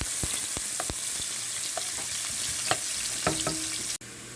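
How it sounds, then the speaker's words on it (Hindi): Onions fry in hot oil in a pan, a dense, steady sizzle with scattered pops and a few stirring knocks, close and loud, ending in a brief drop near the finish. "पहले हम ऑयल में प्याज डाल देते हैं और इसको अच्छी तरह से फ्राई कर लेंगे"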